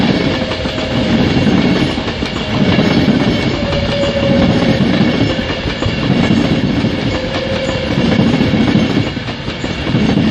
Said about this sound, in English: Next in at 10:46, delayed 10:28 London Euston service.